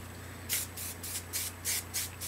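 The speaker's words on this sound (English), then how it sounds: "I usually hairspray like this" Bedhead Masterpiece hairspray sprayed onto a section of bangs held on a round brush, heard as six short, close hissing spritzes in a steady rhythm over a low background hum.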